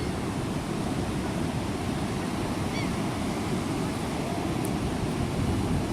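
Steady roar of ocean surf on a windy Florida beach, a dense continuous wash of breaking waves with wind noise filling the whole clip, no voices heard.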